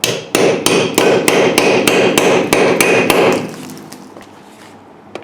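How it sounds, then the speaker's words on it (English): Roughly a dozen sharp, evenly spaced hammer strikes drive a socket onto a car's wheel lock nut, loud and close, then give way to a fading metallic ring and quiet handling. "Now I'm going to use this socket. I didn't have a black socket this size, so same thing here. Whack it on."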